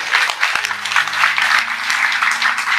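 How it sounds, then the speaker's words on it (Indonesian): An audience of mothers and fathers at a religious gathering applauds, a dense and sustained round of clapping with a faint tonal hum underneath. "tepuk tangan dulu dong Bu Pak"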